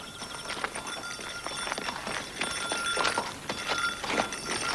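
Horse hooves clip-clop at a steady walking pace on a countryside stable yard near Devil's Dyke, a run of close, regular clopping beats over faint outdoor background.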